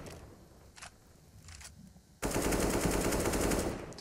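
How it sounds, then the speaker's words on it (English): AK-47 fire in Counter-Strike: Global Offensive: a few faint distant shots, then a sudden loud sustained automatic burst lasting almost two seconds before tapering off. "Dupree does go down to another AK-47 headshot"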